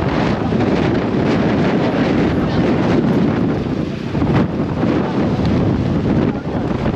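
Strong wind buffets the microphone outdoors, a loud, continuous roar with gusty surges that never lets up.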